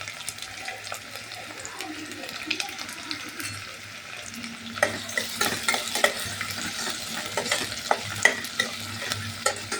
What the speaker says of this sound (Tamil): இப்போ கடாய் வச்சு எண்ணெய் ஊற்றி பட்டை லவங்கெல்லாம் போடுவேன்